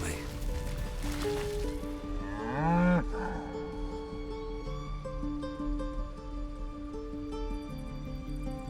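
A cow moos once in the video game Baldur's Gate 3. The low, drawn-out call rises loudly mid-clip over an in-game music bed. A speech-like voice may be imitating the moo.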